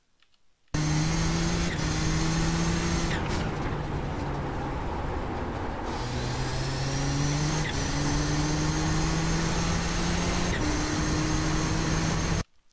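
Race car engine at speed in iRacing at Zolder, a loud steady whine held for about twelve seconds, with pitch climbing through gears and sharp shift breaks between them, no talking.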